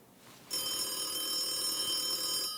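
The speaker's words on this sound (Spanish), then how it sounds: "Está sonando el teléfono, ¿no?" A telephone bell rings loudly and continuously in an indoor room, a bright sustained electronic ring starting abruptly after a short quiet moment and holding steady to the end.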